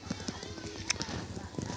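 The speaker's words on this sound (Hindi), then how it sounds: "घोड़ा भी है इनके यहाँ।" Horse hooves clip-clop on the ground in a village yard inside the Kosi river area, a few irregular hoof strikes heard under ongoing speech and outdoor background noise.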